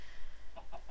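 A Minecraft chicken gives a few quick soft clucks in a row, close and fairly faint, over a low steady background hum in the block-building video game.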